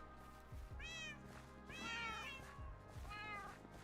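Minecraft cat meowing three times in short, close, clear calls, the middle one longest, over a soft steady game background.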